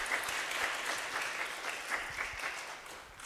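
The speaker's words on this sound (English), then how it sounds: "We're gonna thank you again. Clap, clap, clap." An audience applauds at a music-in-society talk, a dense even patter of many hands clapping throughout, fairly close and sustained.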